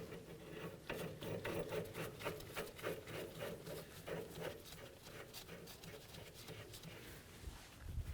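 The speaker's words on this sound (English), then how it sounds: "Let's put the jam nut on there." Jam nut being threaded by hand onto the copper-greased inner tie rod of a 2007-or-later Toyota Tundra, giving close, steady rasping and scraping metal-on-metal strokes that continue through the whole stretch.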